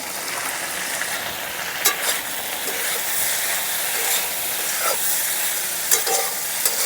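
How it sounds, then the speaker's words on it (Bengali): Potatoes and pointed gourd frying in a pan, a steady close sizzle throughout with occasional scraping knocks as a spoon stirs them. "আলু আর পটলটাকে কিন্তু খুব সুন্দর করে ভেজে নিচ্ছি"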